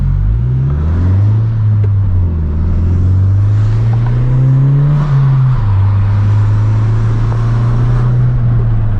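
A 2020 Si car engine drones steadily from inside the cabin under hard acceleration, its pitch rising and easing over several seconds, loud and continuous with no talking.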